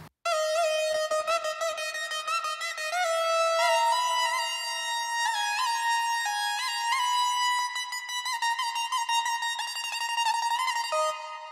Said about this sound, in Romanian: Pentru solo-ul de synth de la final mi-am pus beat-ul pe loop și am făcut freestyle la clapă